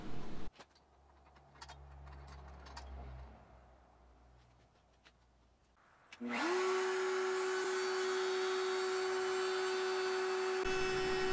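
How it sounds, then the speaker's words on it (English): A router trims the edges of a custom T-type guitar neck along a straight-edge template. Faint workshop clatter comes first, then the router starts up with a loud, steady, close whine that holds and stops abruptly. "using a uh, bit of a just a straight edge template to uh, route down the edges of the neck"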